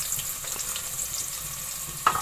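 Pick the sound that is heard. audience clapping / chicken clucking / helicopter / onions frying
onions frying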